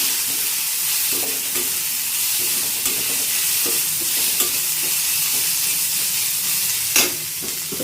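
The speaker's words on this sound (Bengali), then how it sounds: "এবার কেটে রাখা পেঁয়াজগুলো দিয়ে দেবো।" Chopped onions go into a frying pan already holding chopped ginger and green chilli, giving a continuous close sizzle broken by repeated spatula stirs and scrapes, with one sharper clatter toward the end.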